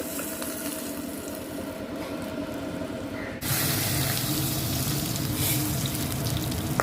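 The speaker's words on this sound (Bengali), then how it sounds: "কয়েকটা কয়েকটা করে আমি ভেজে ভেজে উঠিয়ে নিব মাছগুলোকে" Small bacha fish fry in hot oil with a constant crackling sizzle that suddenly swells louder and fuller partway through, then holds steady.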